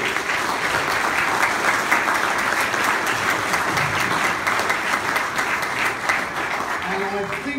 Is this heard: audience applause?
yes